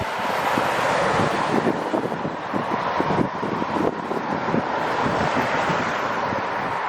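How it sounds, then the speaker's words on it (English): Steady road traffic noise mixed with strong wind buffeting the microphone near Aberdeen Airport, a continuous broad roar with no clear pauses. "Again, apologies about the traffic noise today."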